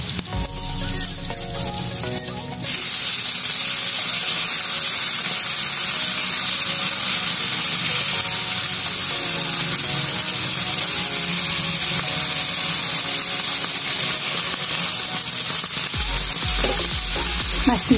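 Vegetables sautéing in a hot pan for Bicolano pancit bato guisado, a loud steady sizzle that jumps up sharply as they hit the oil and then crackles continuously with faint stirring.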